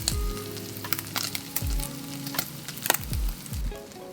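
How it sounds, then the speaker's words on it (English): Pancetta sizzles and crackles steadily in a hot pan as its fat renders, with scattered pops and some low clunks of a utensil or the pan, heard up close with no talking. "we want the fat in the pancetta to really render"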